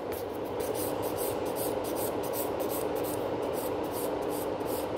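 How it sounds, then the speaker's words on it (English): A 100 grit nail file scraping across gel nails at a salon, fast rhythmic back-and-forth rasping strokes, close and steady with no talking. "most of the time I'm using 100 grit, which is really effective when it comes to the filing"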